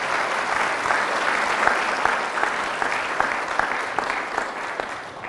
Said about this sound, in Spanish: Fuertes aplausos a Jesús